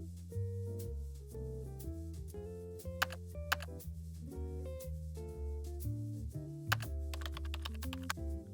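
Computer keyboard typing commands in the Vim editor, a steady run of quiet, close key clicks with a few sharper taps, no voices.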